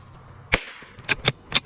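.22 precision rifle shots fired with Eley Contact ammunition, four sharp cracks spread across under two seconds, the first loudest, then three more at irregular spacing, with no talk between them.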